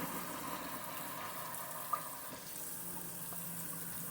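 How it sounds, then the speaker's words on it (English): Steady running tap water while hot peppers are rinsed in a sink before pickling, a continuous even wash of flow with one small clink midway and no talking. "you want to rinse them really good"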